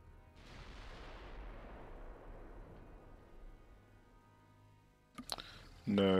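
Naval guns firing high-explosive shells in the warship game Ultimate Admiral Dreadnoughts: a single deep boom rolls out and decays over several seconds, followed by a few sharper clicks and a louder burst at the end.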